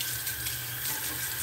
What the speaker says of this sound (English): let's get a cold water rinse